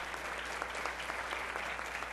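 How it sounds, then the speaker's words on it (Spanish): Audience applause greets a speaker at a criminology workshop lecture: steady, dense clapping from a room full of people, continuous and fairly loud for about two seconds with no talk. "Un fuerte aplauso"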